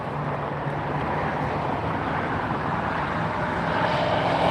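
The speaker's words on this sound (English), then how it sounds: "This is SAS Airline coming in over here today from Copenhagen. This is an Airbus 350-900." A steady, broad engine roar comes from an SAS Airbus A350-900 jet arriving at LAX from Copenhagen, holding at a fairly even loudness and rising slightly toward the end, with no talk.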